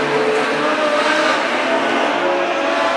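Modified sedan race cars in an Australian title B-main race accelerate together at a restart, a loud, dense engine roar with faint tyre squeal running steadily throughout.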